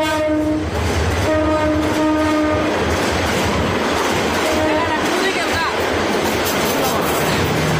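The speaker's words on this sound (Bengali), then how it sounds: "ঢাকা থেকে ট্রেন আসতেছে," Train arriving from Dhaka at a crowded station during Eid travel, its horn blaring in repeated long blasts over loud, continuous rumbling and clatter of the rail cars, with people talking nearby.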